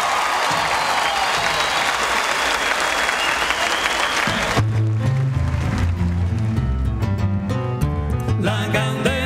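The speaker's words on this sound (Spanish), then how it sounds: "Vamos a recibir con un fortísimo aplauso" A concert audience breaks into loud applause that fills the first half, then gives way to music with clapping continuing beneath it.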